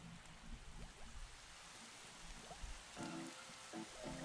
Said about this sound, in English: Rain's pouring. Can't see a thing.